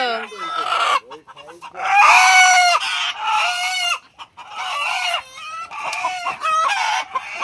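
A rooster being carried off, squawking, clucking and crowing loudly and close in agitated, repeated bursts throughout.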